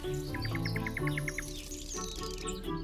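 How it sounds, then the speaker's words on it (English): Birdsong rings through a forest, with one bird repeating a rapid series of bright, even notes over a dense background chorus of other calls and faint insect sounds. "at dawn and in the evening, melodic concerts of nightingales and frogs resound"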